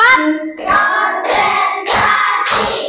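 A group claps hands together in several quick bursts, each a short flurry of claps with brief pauses between them.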